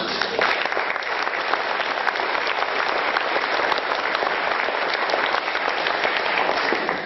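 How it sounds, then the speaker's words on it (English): School awards audience applauding a retiring teacher, a loud, dense and steady wash of clapping that fills the whole stretch without letting up. "if we could give him a round of applause"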